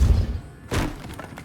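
A Depulso force spell is cast in Hogwarts Legacy, a dull low thump at the start followed by a sharper broadband whoosh-crack burst, close and fairly loud, then a few faint trailing knocks.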